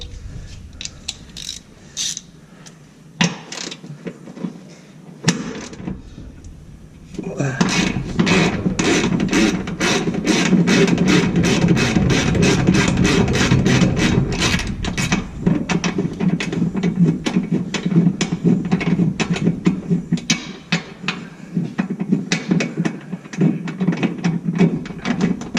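Ratchet wrench turning bolts during removal of a turbocharged Nissan 370Z engine, a steady run of rapid mechanical clicks that thickens into a dense, loud ratcheting stretch before easing toward the end.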